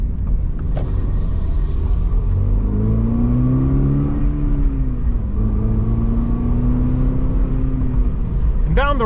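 A 2025 Subaru BRZ Premium sports car pulls away down the road, its engine note rising and falling through a few gear changes over a constant low rumble of road noise, with a voice talking over it.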